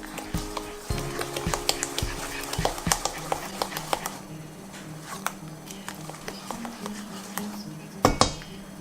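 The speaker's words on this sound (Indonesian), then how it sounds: "Nah, ini aduk sampai rata." Zucchini banana bread batter stirred in a bowl, with a utensil clinking and scraping against the bowl in quick irregular taps, close and moderately loud, with a muffled voice faintly underneath.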